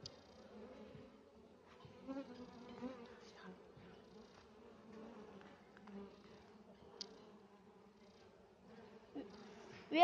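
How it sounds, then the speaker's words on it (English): A swarm of honey bees hums steadily around an open beehive during a hive split, a dense continuous buzz at moderate, fairly faint level with no talk. "There are so many bees."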